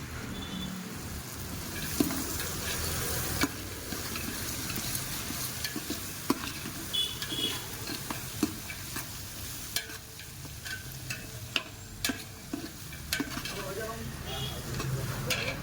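Chillies frying in a pan with a steady sizzle and repeated scraping as they are stirred, punctuated by sharp clicks of a utensil against the pan, while voices murmur faintly in the background.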